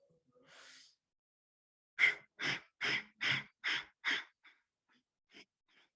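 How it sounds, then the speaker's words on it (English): Fire breath pranayama exercise: six rapid, forceful nasal exhales in an even rhythm, close and clear, followed by a few fainter breaths; an earlier softer breath comes before them. "Fire breath."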